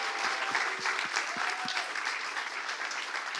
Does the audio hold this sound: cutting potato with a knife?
no